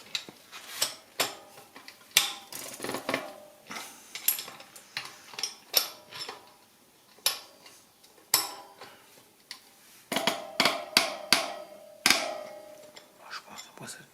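Mountain bike transmission part on a Lapierre Pro Alu SL being tightened with a 24 mm wrench: close, irregular metallic clicks and taps of varying loudness, with bursts of rapid ticking and quieter gaps between.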